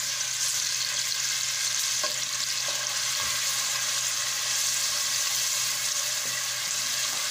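Onion and garlic fry in a pan for spaghetti Bolognese, a continuous bright sizzle holding steady and close, with a few faint stirring touches and no voices.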